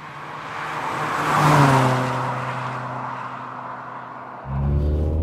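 A 1988 Honda Prelude 2.0i with four-wheel steering drives slowly at full steering lock, its engine a steady low hum that swells briefly, eases off, then rises again near the end, heard alone with no talk.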